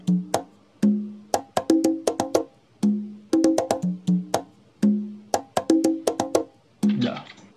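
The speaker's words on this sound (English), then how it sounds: "Pretty boring conga loop." A sliced conga drum loop plays alone in Bitwig, a steady pattern of sharp hand-drum hits at low and mid pitches, with a noisy burst near the end.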